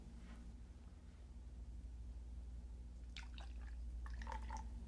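Water trickles little by little into a Pythagorean cup, a faint steady pouring under a low hum, with a few brighter splashy drips near the end.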